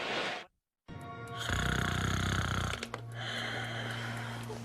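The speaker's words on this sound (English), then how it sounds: "Honey, wake up. You're snoring. It's really bad tonight." A person snores loudly in a long, rasping drone broken by a short silence, close to the microphone, with no talking.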